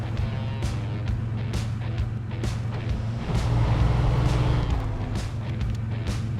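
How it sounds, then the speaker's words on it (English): Heavy-duty Navistar 5000-MV tank-hauling truck driving in the SnowRunner video game, a steady low diesel engine drone throughout that swells louder midway, with brief sharp clicks scattered over it. "This week we're rolling out in the heavy-duty tank hauling Navistar"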